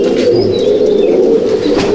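Malwai breed pigeons in a loft at Halisahar coo loudly and steadily at close range, joined by light chirps and a brief flutter of wings.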